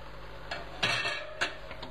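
A utensil knocks and scrapes against a wok as courgettes, mushrooms and chicken are stirred, giving a few light clinks over a steady background hum.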